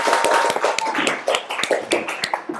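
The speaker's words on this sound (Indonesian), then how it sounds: "Tepuk tangan dong untuk kita semua" Students in a classroom clap together at the end of a lesson, a burst of uneven, close handclaps lasting a few seconds with no talk over it.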